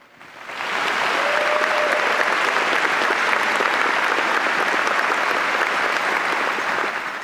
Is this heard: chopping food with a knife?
no